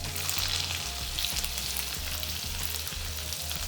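Ginger and garlic sauté in a hot pan for a home-style chole dish, a steady close sizzle with soft rhythmic scraping underneath and no talking.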